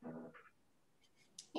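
A house cat called kitty gives a short meow near the start, followed by faint scattered sounds and a brief louder noise at the end, with no speech over it.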